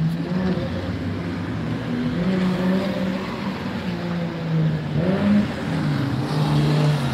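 Car engines revving and droning at a street car show in Mother Teresa Square in Tirana, with a loud, continuous rise and fall of engine pitch and no talking.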